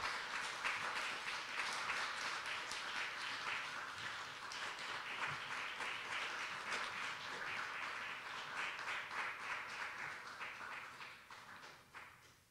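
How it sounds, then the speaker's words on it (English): An audience applauds Dr. Peter Salovey at an honorary doctorate ceremony at National Tsinghua University, a dense, steady patter of many hands that holds for several seconds, then thins and fades toward the end. "Let's give him a big applause."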